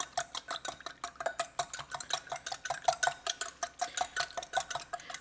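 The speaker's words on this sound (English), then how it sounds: "Whisk it up until it becomes a nice little emulsion." A whisk beating salad dressing into an emulsion for a watermelon salad, with rapid rhythmic metallic ticks against a bowl repeating steadily at close range, fairly quiet and with no talking.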